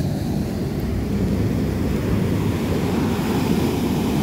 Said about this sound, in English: We are at Silver Strand Beach off the Channel Islands.